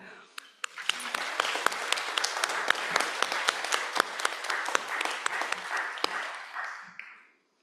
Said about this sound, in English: I want you all to please clap for yourselves, please.